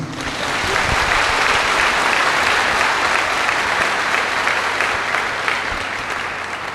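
An audience gives loud, continuous applause, a thick steady wash of many clapping hands with a few sharper claps standing out, lasting the whole stretch.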